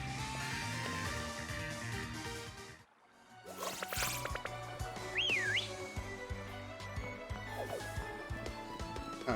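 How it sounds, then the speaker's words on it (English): A character whistles in Pokémon Shield, giving a single bright rising and falling tone over busy game music and effects, after a brief dip into near silence. "Alright, so I can whistle now."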